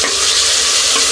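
Coriander paste hits a hot oiled pan and fries with a loud, steady sizzle over stirring, close and continuous with no talk.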